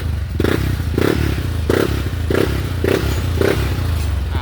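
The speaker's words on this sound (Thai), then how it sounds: "อ่ะสตาร์ทได้ปกตินะครับ" A Yamaha Nmax scooter runs after its code 14 fault and wiring are repaired, its engine repeatedly revved in six evenly spaced bursts with clattering mechanical noise, loud and close with no talking.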